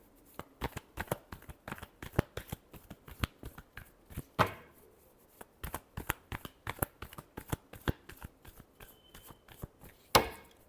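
Tarot cards are shuffled by hand in a long run of quick, crisp riffles and slaps, close and steady with brief pauses and one louder snap near the end, no voices.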